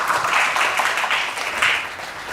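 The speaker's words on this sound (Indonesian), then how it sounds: "Tepuk tangan Caseners di rumah" A studio audience applauding on a quiz show, a short burst of loud, dense clapping that swells and eases over a couple of seconds.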